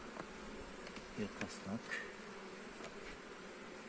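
Bees buzzing at a hive: a steady, faint insect hum with a few louder passing buzzes, while someone speaks briefly.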